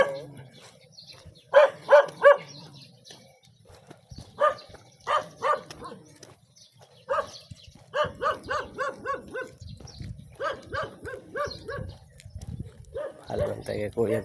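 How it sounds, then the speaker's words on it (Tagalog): A dog barks in a few short bursts near an early-morning jogging route beside a flood-control area, with quieter barks spaced throughout over faint outdoor ambience and people talking. "Huwag tayo makagat ng aso."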